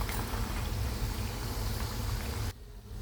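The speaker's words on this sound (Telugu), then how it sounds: "మంచి కలర్ వచ్చే వరకు ఫ్రై చేయాలి" Bottle gourd fritters frying in hot oil give a steady, dense bubbling sizzle close by, cutting off abruptly near the end to a quieter hiss.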